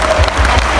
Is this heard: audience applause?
yes